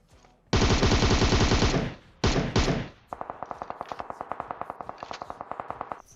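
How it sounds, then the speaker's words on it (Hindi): Gunfire in the mobile battle royale game PUBG Mobile: a long sustained automatic burst, a pause, two short bursts, then a rapid even string of single shots, loud and close. "लेकिन सीन क्या है यार, गोलियों की ऐसी तैसी हो रखी है"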